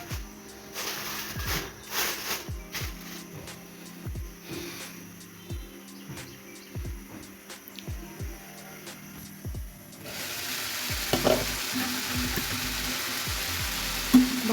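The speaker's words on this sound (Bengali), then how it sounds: "আলু আর বরবটি দিয়ে একটা ভাজা বানাচ্ছি।" Potatoes and yardlong beans fry in a pan with a soft, steady sizzle broken by repeated scraping and stirring knocks, growing brighter and noisier in the final few seconds.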